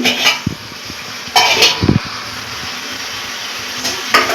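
Spiced meat being stirred in a pan while the masala fries down in its own juices, heard as a few close scrapes and clanks of a spoon against the metal over a faint sizzle, no voices.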